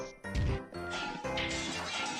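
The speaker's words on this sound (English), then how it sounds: "Glass shattering and knocking." Glass shatters in the video game Hatoful Boyfriend: Holiday Star: a sharp crash bursts early, followed by a dense run of clattering, knocking debris at moderate volume with no voices.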